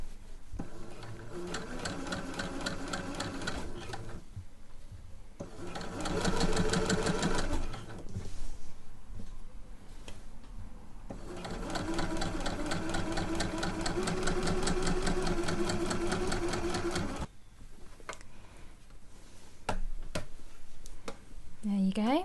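A sewing machine stay stitches the neckline of a caftan in several separate bursts of rapid mechanical stitching. A voice talks in the pauses between runs.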